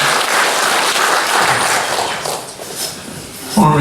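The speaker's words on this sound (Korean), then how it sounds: "하나님께 뜨거운 영광의 박수 올려드리고" A church congregation at a Sunday worship service breaks into loud, warm applause that fades toward the end, with a voice beginning at the close.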